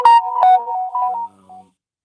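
A phone notification chime plays loud and close, a short bright melodic sequence of a few tones that steps down and fades within about two seconds.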